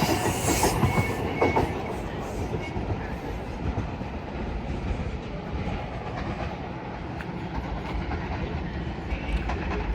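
A Class 701 electric train, unit 701 022, pulls away from a busy main-line junction station bound for London Waterloo, giving a steady, loud rolling rumble with faint wheel clatter throughout and no talk.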